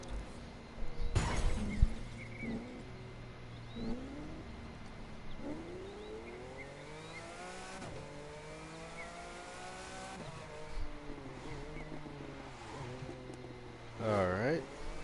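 A 2007 Lamborghini Reventón revs and accelerates in the racing video game The Crew 2, its engine note climbing and dropping through gear changes with a loud crash early on, while a player talks over it.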